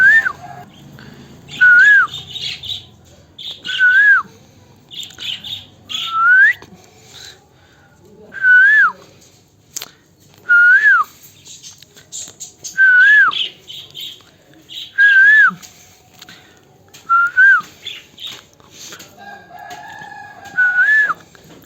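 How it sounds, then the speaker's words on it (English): A female parrot whistles in short repeated rising phrases roughly every two seconds, loud and close, with quiet gaps and faint chirps between them. "It's a female parrot."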